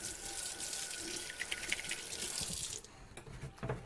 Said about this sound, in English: I forgot to wash my hands. I'll do a quick wash right now.